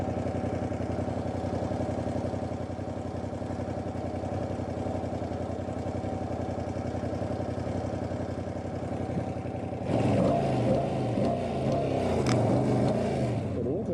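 A Ducati V2 motorcycle heard while riding: a steady, low engine drone with wind rush that swells into louder revving and mechanical clatter near the end.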